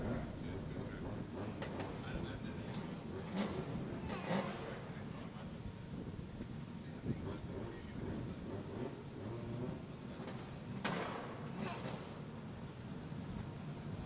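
A Nissan S13 drift car sits at the start line during Formula Drift ProSpec knockout qualifying in New Jersey, its engine a steady low rumble at a distance under announcer commentary.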